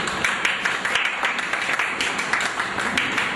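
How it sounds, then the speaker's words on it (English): Seminar audience applauding to welcome a speaker on derivatives at a CA study circle event, steady dense clapping from a crowd, moderately loud and sustained throughout. "Can I have a round of applause?"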